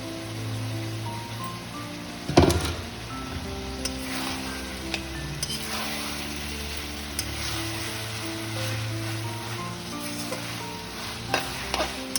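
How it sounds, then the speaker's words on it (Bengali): Noodles stir-fried in a hot pan for mixed chowmein give a steady close sizzle with scraping stirs throughout, including a sharp clatter early on and a few light knocks near the end. "দেখো ভালো করে নুডলসগুলো একটু ভেজে নিতে হবে এর সাথে।"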